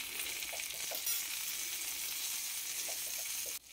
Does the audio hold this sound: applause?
no